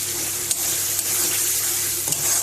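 Tomatoes and raw peas sizzle steadily in a hot pan with spices, with a few soft scrapes of stirring breaking through the constant frying hiss.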